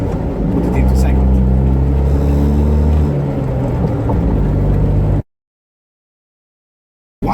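A car engine with a constant-mesh gearbox drones loudly as the driver shifts into second gear at about 35, the pitch dropping and settling before the sound cuts out abruptly.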